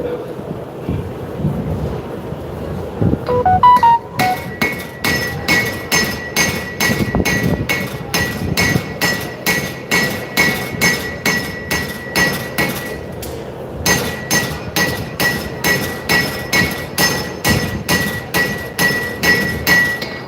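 A power hammer pounds hot steel for a knife spine in a fast, steady series of heavy ringing blows, briefly pausing partway through before resuming, loud and close.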